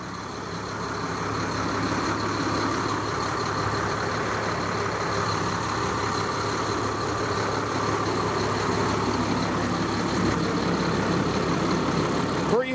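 A 330-horsepower Caterpillar C7 diesel engine in a 2007 Fleetwood Discovery motorhome idles steadily nearby, a continuous low rumble with a faint mechanical clatter that barely changes.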